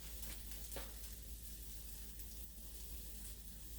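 Sizzling and frying of a Southern-style bayou stir fry in a pan, a steady faint hiss throughout with a brief louder crackle near the start.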